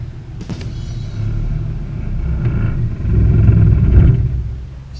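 The engine of a 1953 Chevrolet Bel Air with a manual transmission rumbles and surges, rising in a low roar before sputtering out as it stalls, close and without talk.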